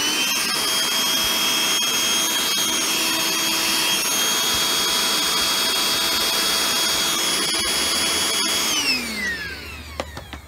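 A Eureka Quick Up stick vacuum with a sluggish brush bar and no suction, running with a steady, loud motor whine and whoosh that holds evenly, then spins down and fades near the end.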